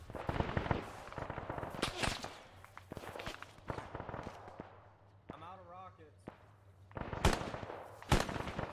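Gunfire in the military video game Arma 3: sharp, irregular shots and short bursts, some close and loud, others fainter, with radio-style voices between them.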